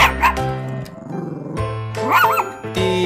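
A dog barks and yips in a short, loud, close-up run of pitched woofs and whimpering sounds with no other voices, matching a person imitating dog barks in a children's animal-sounds game.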